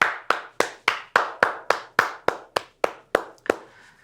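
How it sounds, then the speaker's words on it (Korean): A church congregation at a Korean Sunday worship service claps in a steady, even rhythm, about a dozen crisp claps in unison that stop after roughly three and a half seconds. "우리 예배를 받으신 하나님께 우리 다시 한번 큰 영광의 박수 올려드립시다."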